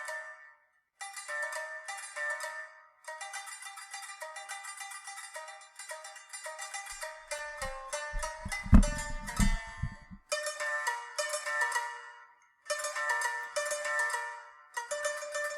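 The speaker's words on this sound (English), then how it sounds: "And when people hear the shamisen, they always think of Japan." A shamisen, the Japanese three-stringed lute, played with a large plectrum in sharp plucked phrases broken by short pauses, with a low thumping passage in the middle and no talking.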